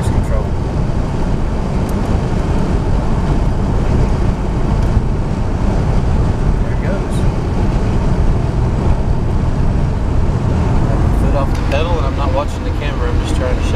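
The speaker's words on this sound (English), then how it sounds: "back out on the highway, about 55, and I'm gonna try the cruise control" Steady, loud road and engine roar from a 1987 Buick Century cruising on a highway at about 55 mph, with broadband wind rush throughout and a brief tonal whine near the end.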